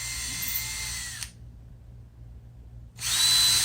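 Power drill widening the string holes of a guitar bridge, a close, high whine for about a second, then a short pause before the drill spins up again.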